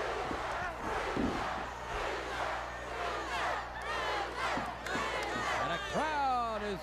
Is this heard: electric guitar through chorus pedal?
no